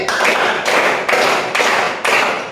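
A classroom group plays a hand-clapping game, striking five loud claps in unison. Each clap is a sharp, full burst that decays briefly before the next, close and strong with no speech over them.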